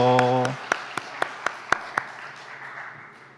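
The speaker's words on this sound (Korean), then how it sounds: "다시 한 번 더 크게 박수로 축하하겠습니다." A short held tone gives way to a handful of sharp, separate claps from a church congregation at a graduation worship service. The claps are evenly spaced, then trail off into quiet room noise.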